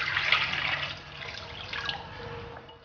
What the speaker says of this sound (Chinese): 接着往里面加入清水